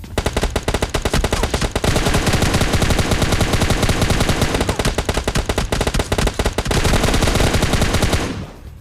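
Rapid, continuous automatic fire from an M4 rifle in a battle royale video game, loud and dense for about eight seconds before cutting off abruptly.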